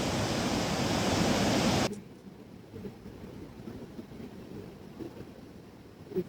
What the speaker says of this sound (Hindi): बहुत शानदार नदी बह रही है।